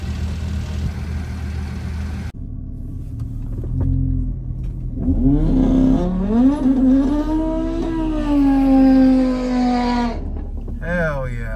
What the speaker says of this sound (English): We're gonna go take a quick lap with this 900 horsepower TTRS